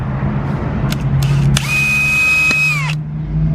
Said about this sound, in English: So I'll drill those out